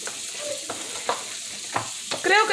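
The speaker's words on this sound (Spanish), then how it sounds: "le estoy dejando un ratito que medio se sofría el tomate también" Chopped tomato sautéing in a pan, giving a soft, steady sizzle with occasional stirring scrapes and clacks from a utensil, ending in a brief burst of louder frying.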